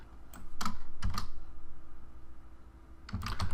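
Computer keyboard typing a name: scattered bursts of key clicks near the start and again at the end, with a quieter gap between, close and clear over a faint steady hum.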